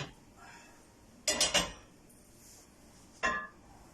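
A metal cooking pot is handled while milk and water are poured in, with two sharp clanks close together and a third clink a moment later over quiet background.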